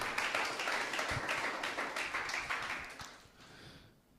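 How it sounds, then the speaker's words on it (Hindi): Audience at a Hindi Christian satsang in Pune clapping for God, a dense steady wash of many hands applauding together for several seconds before fading out at the end. "ताली बजाएंगे परमेश्वर के लिए।"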